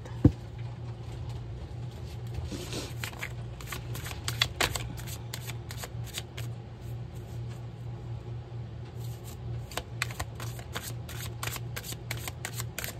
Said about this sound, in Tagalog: balasahin muna po natin ulit